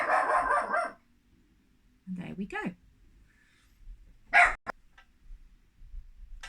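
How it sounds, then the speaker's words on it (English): Teddy, a small guard dog, gives a few sharp barks and yips in the background between stretches of quiet, while a person talks briefly nearby. "You can hear Teddy barking in the background."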